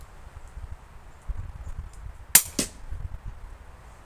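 A CZ 457 Varmint .22 LR rifle fires in rain and wind, giving one sharp crack followed by a second report, both heard over a faint, steady wind noise.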